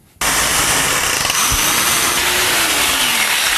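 A rotary hammer bores into concrete through holes predrilled for anchoring a stud frame for an under-stair cupboard: one loud, sustained grinding burst of a few seconds that starts abruptly and cuts off sharply, with no talk.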